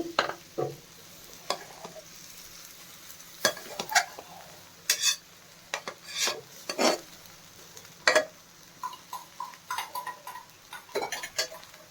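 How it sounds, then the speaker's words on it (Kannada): Capsicum rice being mixed with lemon juice in a pan, heard as a run of sharp spoon scrapes and taps against the metal in uneven bursts, close and fairly quiet, with no talking. "ಈಗ ರೈಸ್ನೆಲ್ಲ ಚೆನ್ನಾಗಿ ಮಿಕ್ಸ್ ಮಾಡ್ಕೋಬೇಕು"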